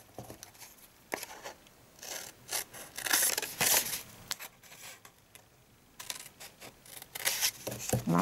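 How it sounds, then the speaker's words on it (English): Scissors snipping paper on a punch-board craft, up to a scored line, with soft intermittent cuts and rustling at close range, quiet and uneven. "just cut up on that line to the first line there"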